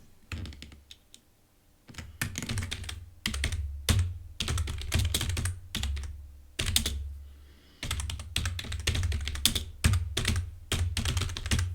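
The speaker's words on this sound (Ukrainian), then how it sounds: "якби я отут продовжив набирати якийсь текст" Typing on a computer keyboard in Google Docs produces close, crisp bursts of rapid key clicks broken by short pauses.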